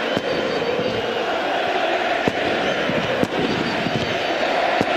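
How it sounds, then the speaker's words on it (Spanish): Fireworks go off at a Primera Nacional football match between Instituto and San Telmo, sharp cracks popping every second or so over a dense, continuous roar of the stadium crowd. "Y ahora los fuegos artificiales."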